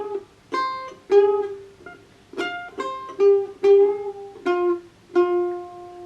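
Mandolin playing a riff, a string of bright plucked notes with short bends and releases, each note ringing briefly before the next in a steady, moderately paced phrase, close and alone.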